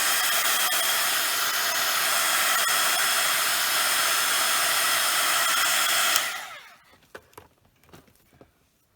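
A hair dryer blows loud and steady for about six seconds to dry alcohol ink on vellum, then cuts off, leaving a few faint clicks and handling noises.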